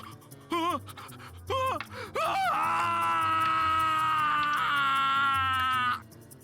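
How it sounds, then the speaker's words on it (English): Watase gives a feral howl in the Root Double game. Short strained pained cries build into a long, loud, sustained wailing howl that lasts several seconds before cutting off. "feral howl escaped from Watase's throat"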